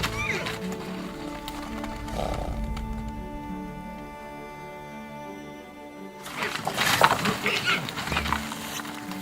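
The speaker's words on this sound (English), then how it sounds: "Yakutian horses are also neighbors in this icy land." Yakutian horses snort and whinny in the frozen Yakutia countryside of Siberia, with hoof movement and bursts of animal noise at the start and the end. A sustained musical bed plays underneath.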